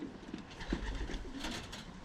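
A pigeon hen, a violet-coloured bird, coos softly in a loft, a few low murmuring calls at moderate distance with a faint background hum and no talking.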